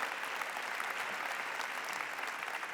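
Audience applause welcoming two speakers onto a stage, a dense steady wash of clapping from a large crowd, loud and continuous throughout with no voices on top.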